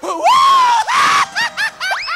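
A woman screams in a long, high, sustained wail, then breaks into several short rising shrieks that sound close and loud, with no clear talk over them.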